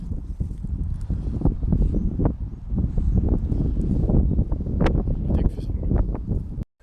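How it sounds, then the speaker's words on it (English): Blustery wind buffets the microphone in steady rumbling gusts, with a voice faintly heard underneath. "I really didn't know it had gotten this windy during this walk."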